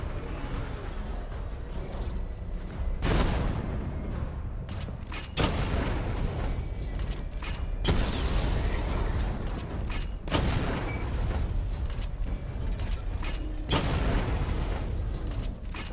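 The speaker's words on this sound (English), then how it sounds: "Missile barrage level 1 ready." Repeated missile barrage volleys fire in Batman: Arkham Knight, with loud broadband bursts of launches and booms at about three, five, eight, ten and fourteen seconds, over a continuous dense mechanical rumble of game combat.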